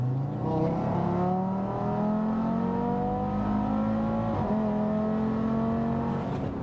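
An Audi RS3 8V revs hard and alone, its engine note climbing in loud, sustained sweeps with steady harmonic pitch rises and brief dips between pulls, with no voices over it.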